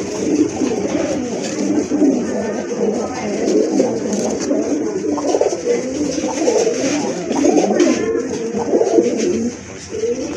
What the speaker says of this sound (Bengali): মাশাআল্লাহ এখানে কিন্তু আরেক জোড়া রাজগোল্লা কবুতর আছে